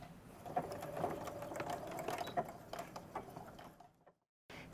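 A sewing machine reinforces stitches on a backpack's pocket lining, running in a quick rattling mechanical patter with a steady ticking rhythm for several seconds before stopping, fairly quiet and close.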